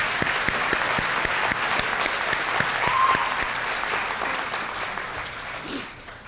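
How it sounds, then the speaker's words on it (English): An audience at a middle school promotion ceremony applauds for student speakers, a steady dense clapping that holds for several seconds with a few louder nearby claps, then begins to taper. "Let's give another round of applause for our student speakers."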